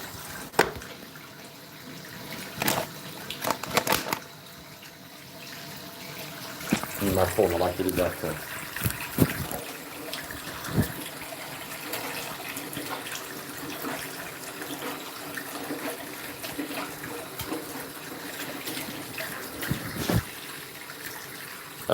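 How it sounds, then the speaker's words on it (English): A tap runs into a sink during mouth and nasal rinsing, giving trickling and splashing water with intermittent louder gushes, while someone talks over part of it. "Rinse my mouth and do a nasal rinse"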